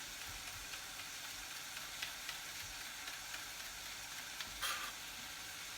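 Onions sizzle in a pan for a curried onion and potato soup, a steady close hiss of frying with a few faint clinks and one brief louder stir near the end, no talking.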